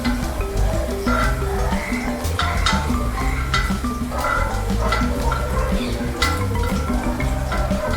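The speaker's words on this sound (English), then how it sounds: "I am going to add in the garlic and also the sweet chili. I am going to saute it for a minute's time" Garlic and sweet chili sauté in a hot pan for an Indo-Chinese dish, giving a steady sizzle with repeated clinks and scrapes of a utensil against the pan.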